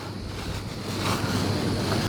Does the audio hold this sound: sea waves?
yes